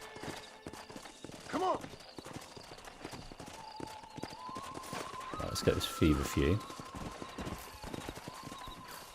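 Horse hooves clop rhythmically in Red Dead Redemption, a steady run of hoofbeats heard throughout alongside game ambience, as someone talks over them.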